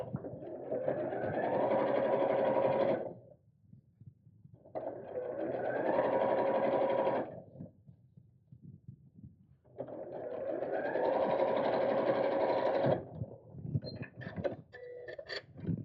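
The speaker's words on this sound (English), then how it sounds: "we'll sew along this side, again close to the edge, but not so close you go off the edge" A sewing machine stitches along the edge of a fabric purse organiser in three steady runs of a few seconds each, whirring loudly and close, with quiet handling noises in the pauses between.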